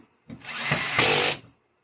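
A power drill tightens a ceiling-mounted TV mount in one short close burst, whirring up and straining for about a second before stopping.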